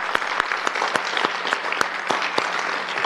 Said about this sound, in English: So one more round of applause for all of our kids.